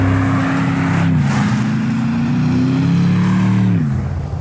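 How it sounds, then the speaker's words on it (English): A Mercedes-AMG G63 engine revs hard under acceleration, loud and close, with a deep roar that climbs, drops briefly as it shifts, then climbs again. "Every time I put my foot down the pedal, it just..."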